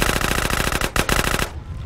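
Rapid automatic gunfire in the video game GTA San Andreas, a loud, evenly spaced burst of shots with a brief gap, then another burst that cuts off into quiet.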